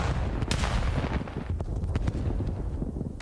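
Grenade blasts and gunfire in a Call of Duty League match, a dense rumbling barrage of booms and sharp cracks in quick succession, loud and continuous without speech.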